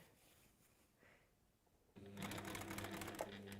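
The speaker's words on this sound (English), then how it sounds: "so that we're just always sewing a straight line" A sewing machine starts up partway through, stitching a straight line on fabric in a fast, even mechanical chatter that stays close and steady after a quiet lead-in.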